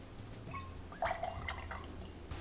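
Lime juice poured into a glass for a margarita, with a short, close trickle and drips of liquid falling in quick, uneven spurts.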